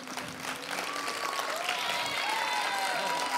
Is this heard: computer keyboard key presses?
no